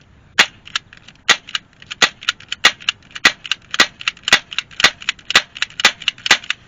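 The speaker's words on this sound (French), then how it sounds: "Vous tirez en rafale. Bon, là, il n'y a plus de billes, du coup, ça tire que le gaz." An airsoft gun with no BBs left fires gas only, in quick sharp bursts of cracking pops with short pauses between groups, loud and close, with no talk.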